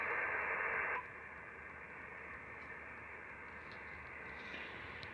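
Hiss and static from an ICOM IC-7300 ham radio receiver, loud at first, then dropping abruptly to a quieter, smoother noise floor after about a second as noise reduction engages.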